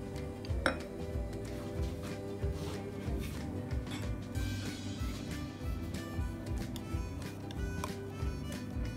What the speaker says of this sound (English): Now we will mix this egg white.